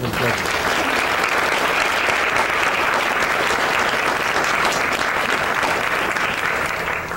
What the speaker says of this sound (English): Please join me in a round of applause for our Board of Judges.